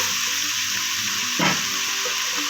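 Onions sauté in hot oil for avarekallu upittu, giving a constant close sizzle with one brief louder burst of stirring midway.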